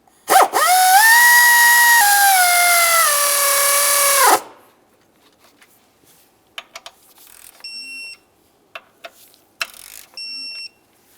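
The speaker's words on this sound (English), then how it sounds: "Now we'll snug these and torque them to 89 inch-pounds." A power tool runs for about four seconds at close range while snugging bolts on a Mercury Grand Marquis engine, loud with a slight pitch dip. After it, there are quiet clicks, light handling and a few short tonal beeps.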